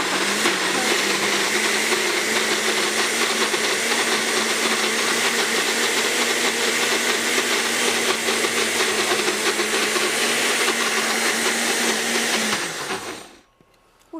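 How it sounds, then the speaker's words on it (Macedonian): A blender roars loudly and steadily for a long stretch, then winds down abruptly and stops near the end. "овој мој другар блендер е навистина добар"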